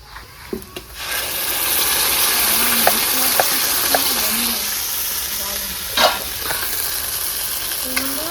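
Spice paste and onions frying in a pan, a close, steady sizzle with scraping stirring strokes and a few taps of the utensil, no speech over it.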